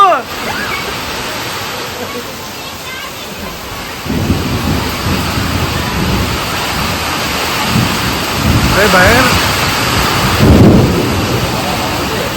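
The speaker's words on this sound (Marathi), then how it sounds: "विजा पण कडकडतात मधून" Steady heavy downpour roars throughout, with a deep rumble of thunder swelling near the end; voices talk briefly over the storm as strong wind shakes a papaya tree.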